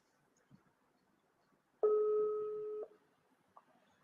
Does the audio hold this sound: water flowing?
no